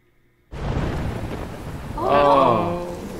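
A storm in Life Is Strange Remastered breaks in suddenly after a moment of near silence, with heavy rain and rolling thunder that swells loud and stays loud. A faint voice sits beneath the roar.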